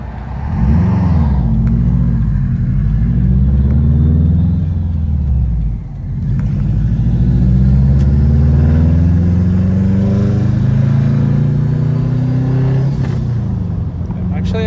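Subaru WRX hatch with an EJ25 engine and a newly fitted FP Red stock-location turbo, driving: loud, steady engine drone with rising and falling harmonics as revs change, a turbo whine on top, and a voice talking over it.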